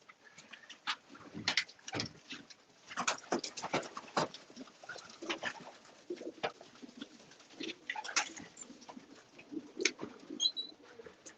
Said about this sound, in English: Cooing in the section.